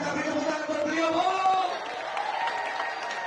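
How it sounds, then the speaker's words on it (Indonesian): Crowd at a large presidential campaign rally in Indonesia applauding and cheering, a dense, sustained wash of clapping and voices that stays loud throughout. "Sekali lagi kita beri tepuk tangan buat beliau Bu"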